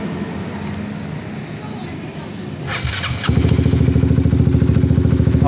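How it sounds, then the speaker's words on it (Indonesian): A Honda CBR 150R motorcycle engine is started, a brief cranking whir followed by the engine catching and settling into a steady, close, throbbing idle around 1500 rpm, with some clattery mechanical noise. "saya hidupin dulu ini motornya"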